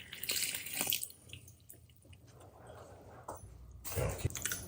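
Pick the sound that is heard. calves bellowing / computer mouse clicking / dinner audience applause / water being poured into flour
water being poured into flour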